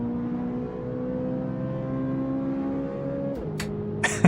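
A mid-engine Corvette race car in the Automobilista 2 racing game holds a steady high-revving engine tone that drops near the end, followed by a couple of short sharp knocks.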